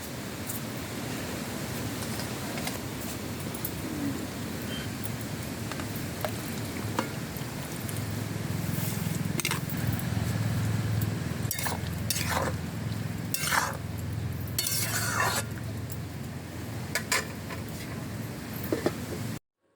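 Washed banana flower steams in a wok with water, salt and turmeric, giving a steady, faint hiss and bubbling with occasional light clinks of utensils.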